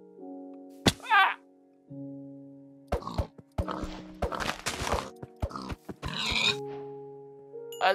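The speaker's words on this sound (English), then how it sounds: "I love the sound the pigs make." Minecraft-style game sounds with short grunting pig calls, a squeal near the start and scattered thumps and snorts, over a low steady musical drone.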